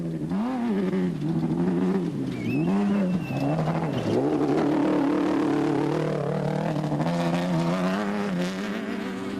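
Race car engine at the Toyota 1000 off-road desert race, running rough and not sounding well, with a loud sustained drone that rises and falls in pitch as it revs, close and continuous throughout with no talk.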